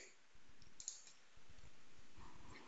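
Computer mouse clicks at a desk, a few soft, quick taps in small clusters, close but very quiet against a faint background hiss.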